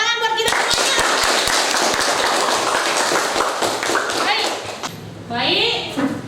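A school class claps hands together, a burst of sharp close claps at first that merges into dense steady applause, then fades as a voice speaks at the end.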